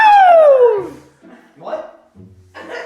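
A person imitates a dog with a long, loud falling whine-howl, followed by a couple of short, softer yips and bark-like sounds, close to the mic.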